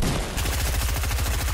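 Rapid burst-rifle fire in a first-person shooter video game, loud close bursts repeating in a steady chattering rhythm across the whole moment, with no talking.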